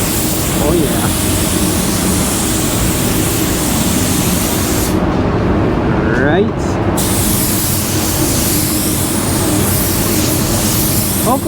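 A coat of paint goes on by spray gun, a loud steady hiss of close-range spraying that drops out briefly midway before resuming, with little else audible.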